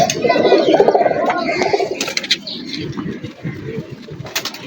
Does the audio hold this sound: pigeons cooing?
yes